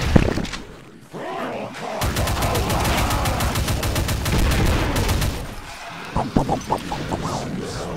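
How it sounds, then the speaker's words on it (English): Exploding barrels in Brutal Doom: a loud game soundscape with a sharp blast, then a long, rapid burst of crashing explosions and gunfire, followed by scattered heavy impacts. "Oh, explodey barrels."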